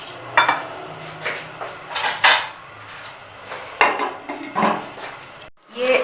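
A pot of yogurt mutton is covered during cooking, giving several sharp metallic clanks and scrapes of lid and cookware, close and loud, spaced irregularly over light background noise.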